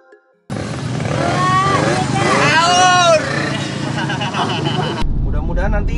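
A modified racing motorcycle engine fires up and revs hard close by, a loud sustained roar with rising and falling pitch sweeps, cutting off abruptly near the end.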